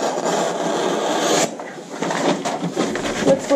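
Scissors cutting a paper sleeve pattern along the side seam: a continuous close rasping, rubbing cut with a brief pause and then shorter scraping strokes.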